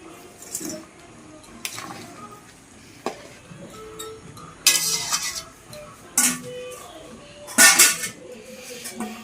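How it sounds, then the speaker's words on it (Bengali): Pieces of fried hilsa fish are added to a pot of cooking yam, with metallic clinks of a spoon against the pot, a faint simmering sizzle and several sharp clattering scrapes, close by and without talking. "এবার আমি ভেজে রাখা ইলিশ মাছটা এর মধ্যে দিয়ে দিচ্ছি।"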